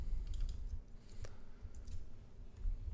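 Faint, scattered clicks of typing on a computer keyboard in a quiet room, irregular and soft.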